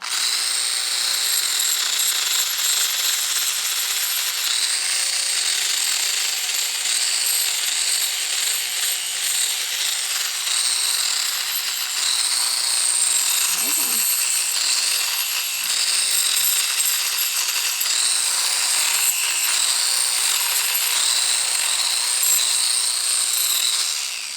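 A goat's hooves trimmed flat and even, giving a continuous, close, high scraping and grinding noise that holds steady for the whole stretch with no talking.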